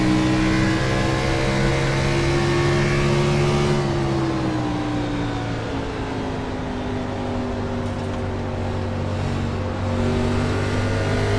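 Race car engines at a NASCAR Xfinity event at New Hampshire, loud and sustained, droning steadily then backing down in pitch as the cars slow for the tight corners, with no talk over it.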